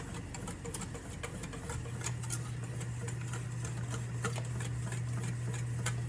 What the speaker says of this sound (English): You just keep whisking it, and whisking it, and whisk it